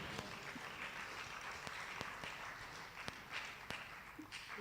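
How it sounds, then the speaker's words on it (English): A crowd at the opening session of a democracy forum in Kenya bursts into steady applause, a dense wash of clapping with a few sharper individual claps standing out, heard alone without talk. "a round of applause"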